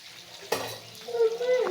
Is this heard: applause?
no